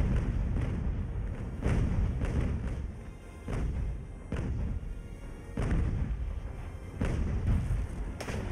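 Cannon volley from a sailing warship in the naval game Ultimate Admiral: Age of Sail, with a rolling series of deep, loud booms firing in quick irregular succession and overlapping into a continuous rumble, with no talking.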